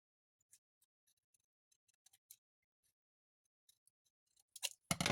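Scissors snip crepe paper in a series of faint, sparse, quiet clicks, then a louder crinkling rustle of the paper builds near the end, with no talking.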